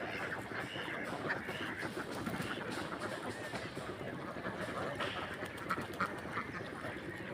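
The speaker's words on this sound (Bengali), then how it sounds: "এগুলো হাঁস ছিল একদম ছোট, এখন বড় হয়ে গিয়েছে হাঁসগুলো।" Black-breed ducks quack in a steady, dense chorus on a duck farm. The flock sounds close and fairly loud, with a constant layer of background noise underneath.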